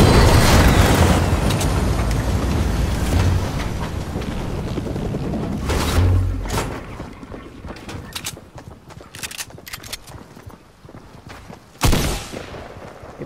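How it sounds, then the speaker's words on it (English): Explosions in the Fortnite video game burst out as dull booms and crackling blasts, dense at first and then thinning into scattered sharp pops, with one last loud bang near the end. "get ready for explosions"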